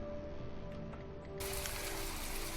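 Steady rain hiss in the naval combat game From the Depths, a broad wash that swells noticeably louder partway through and continues evenly to the end, with no voices.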